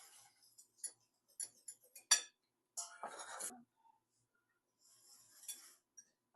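Flour being mixed for puto cheese batter in a bowl, a sparse series of light clinks and taps of a utensil against the bowl with a brief scraping swish, quiet and close, separated by silent gaps.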